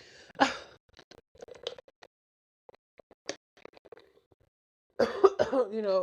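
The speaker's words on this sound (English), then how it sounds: "It's the cough that's so annoying" A sharp cough from someone with a cold near the start, a few small throat sounds and rustles, then a burst of harsh, raspy coughing at the end.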